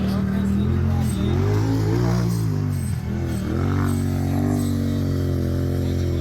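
A turbocharged off-road truck on 35-inch Roxxzilla tires at the Mountain Mayhem obstacle course race: a loud, continuous engine drone with rising and falling revs, heard under talk.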